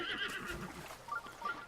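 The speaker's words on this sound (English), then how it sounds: "It is nice to be able to call your horse to you wherever you are" A horse in the video game Zelda: Breath of the Wild whinnies with a wavering, high neigh, joined by soft clip-clop hoofbeats, heard alone and fairly close.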